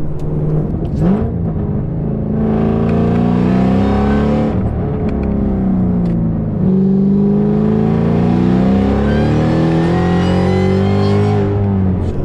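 A 2014 Shelby GT500 making 720 rwhp, with a JLT cold-air intake, VMP throttle body and custom Lund tune, roars through two long, loud revs close by, the exhaust note swelling and easing between pulls.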